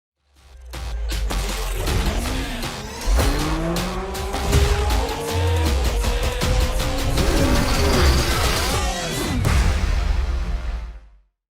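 A mobile car-collecting racing game with 1v1 point-to-point races: revving engines roar and shift, tires squeal and skid through turns, loud and continuous for around ten seconds with no talking.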